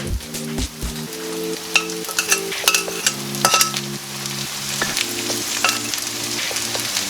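Broccoli and cauliflower sizzle with onions in a hot pan, a steady close frying hiss broken by clinks and scrapes of stirring, with background music underneath and no talking.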